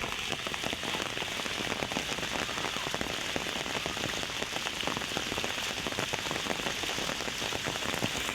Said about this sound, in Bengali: গাইস, বৃষ্টি নিয়ে পড়েছে, আবার অনেকটা বৃষ্টি দেখতেই পাচ্ছেন আপনারা